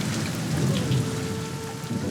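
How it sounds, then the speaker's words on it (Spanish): A heavy thunderstorm downpour beating on old, poorly kept roofs, a steady loud wash of rain with a low rumble of thunder underneath, continuous throughout with no voices. "Hay una tormenta, son tormentas aparatosas, terribles."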